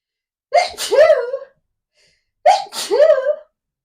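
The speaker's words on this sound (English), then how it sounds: "I love sneezing, but that snuck up on me." Two loud sneezes, close up, each with a sharp intake and explosive burst, separated by about a second of silence.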